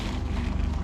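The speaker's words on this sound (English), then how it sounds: "No, it's a tractor." A tractor passes at close range, a steady low engine rumble with a constant drone and no voices.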